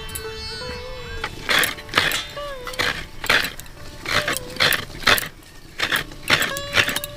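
Coconut being grated by hand with a traditional grater in a home kitchen, small coconuts, giving repeated scraping rasps in bursts, with people talking and clinking dishes around it.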